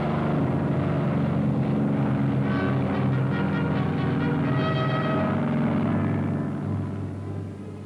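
WWII Japanese carrier aircraft engines drone in Battle of Midway footage, a steady loud propeller roar and rumble that holds throughout, then eases away toward the end.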